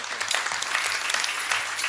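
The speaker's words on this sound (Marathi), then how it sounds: "एकदा हनुमंतराय करता जोरदार टाळी वाजवा." A crowd claps loudly and continuously, a dense patter of many hands with no voices on top.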